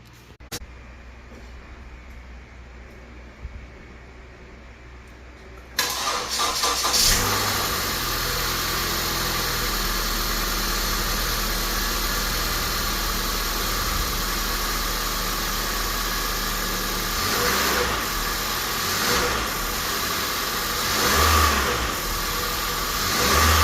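A 2018 Honda Fit, just fitted with a new alternator and serpentine belt, cranks and starts after quiet shop ambience, then runs close by with a steady mid-pitched engine drone and a few light revs over about eighteen seconds.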